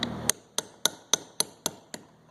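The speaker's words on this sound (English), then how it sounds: "And a little hammer, a little chisel." Seven sharp metallic taps of a small hammer striking a small chisel while seating a hub part on a 2010 Ford F250 axle, evenly spaced and close, each ringing briefly before the next.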